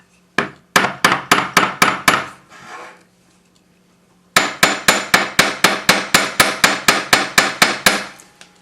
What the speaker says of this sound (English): hammer it to half the thickness of the original wire